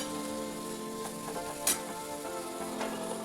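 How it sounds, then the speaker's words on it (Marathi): Bombay duck (bombil) fish sautéing in a pan with coriander makes a soft, continuous sizzle with a few light stirring clicks, fairly quiet and without talk. "बोंबील एकदम छान असं परतून घ्यायचे"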